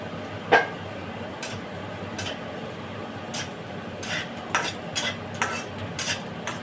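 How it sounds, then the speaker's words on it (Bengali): Bori lentil dumplings fry in oil alongside bitter gourd, a low, steady sizzle. Sharp clicks and scrapes of a utensil against the pan come at irregular intervals, with no talk. "ওই তেলে আমি বড়িগুলোও দিয়ে দেবো। লাল লাল করে ভেজে নেবো"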